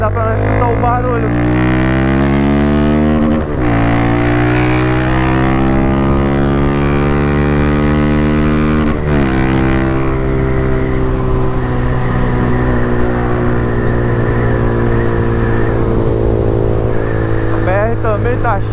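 A Honda Twister motorcycle roars along a busy highway, its engine loud and close as it revs up with two clear gear shifts and then holds a strong, steady drone under rushing wind.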